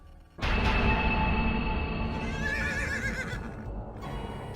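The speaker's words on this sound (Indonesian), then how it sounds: "Dalam gelapnya malam, muncullah sosok kuda yang sudah berdiri di depan pintu." A horse whinnies loudly as a sound effect in a spooky ghost story, a long, close, wavering neigh that rises and falls for several seconds before fading.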